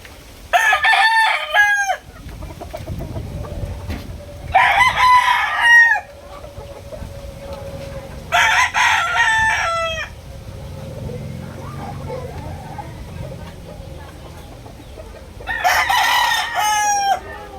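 A Boston Sweater gamecock rooster crows loudly and close four times, each crow lasting about a second or two with long pauses between, over low background murmur.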